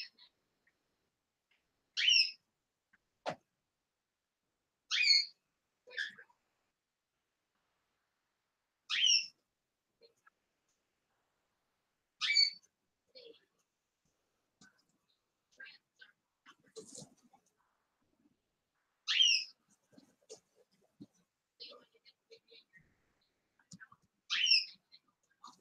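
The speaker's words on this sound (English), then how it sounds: "Probably hear my canaries in the background. They're over here squawking this morning" Pet canaries chirp in short, bright bursts roughly every few seconds from across an otherwise quiet indoor room, with faint scattered tweets between the louder calls.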